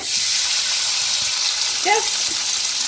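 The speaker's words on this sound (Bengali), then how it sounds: "তখন আমি আবার সর্ষার তেল দিয়ে দিব ভাজি সব কিছু এই যে পনিরগুলো দিয়ে দিচ্ছি" Paneer pieces frying in mustard oil, with a continuous bright sizzle close by and a brief squeaky chirp near the end.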